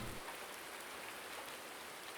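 Steady rainfall in the farming game Farming Simulator 19, a soft, even hiss of drops on surfaces, faint and continuous with no other sounds.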